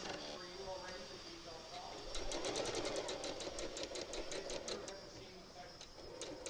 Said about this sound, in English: we'll head over to the sewing machine and we'll stitch those together